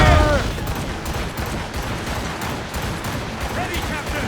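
Ship cannons firing in Assassin's Creed Rogue, a dense rolling barrage of booming shots and crackling impacts at close range, continuous and loud, with voices shouting commands over it.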